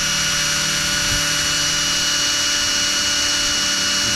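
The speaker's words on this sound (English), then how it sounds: "Looks like a 7/64 drill bit will work just fine." A power drill with a 7/64 bit runs slowly during radiator and exhaust work on a 4Runner, giving a steady, loud, close whine with a constant tonal hum and no talking.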